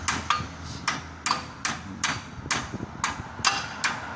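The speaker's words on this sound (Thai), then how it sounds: "เอานี่ฝั่งนี้แล้วค้อนเคาะ" Sharp metallic hammer blows knock a suspension part on a Nissan Frontier about every half second, ten in a steady rhythm, ringing briefly against a low mechanical background.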